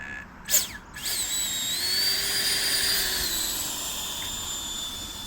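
Homemade RC jet engine buggy driving across a parking lot: a sustained high-pitched turbine whine with a rising and falling tone, moderately loud, preceded by a couple of brief clicks and thumps.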